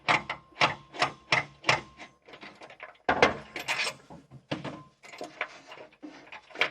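A Phillips head screwdriver loosens a screw on a workbench vise, giving a close series of rhythmic ratcheting clicks and scraping squeaks in short bursts, with brief pauses between turns.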